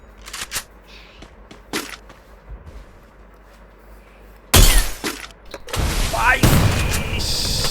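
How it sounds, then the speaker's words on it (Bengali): Grenades explode in the Free Fire mobile shooter game. After a stretch of quieter in-game sounds, two loud, close booming blasts hit in quick succession, each followed by a crashing, shattering rumble that lingers. "বোম, খালি বোম মারতেছে।"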